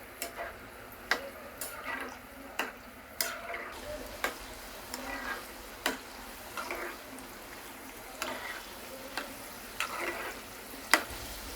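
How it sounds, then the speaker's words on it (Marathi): Onion and potato bhaji fry slowly in oil over a low flame, a steady soft sizzle with regular small ticks and pops throughout. "मंद आचेवर चांगले अर्थून परतून शेकून घेऊया"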